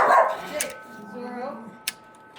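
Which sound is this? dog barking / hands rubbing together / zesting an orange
dog barking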